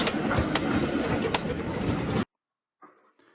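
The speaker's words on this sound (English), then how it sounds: "Just enjoy this train going past." A train rumbles loudly and close past a spot on the M&GNJ Railway line between Holt and Cromer for about two seconds, then the sound cuts to silence, followed by faint brief voices.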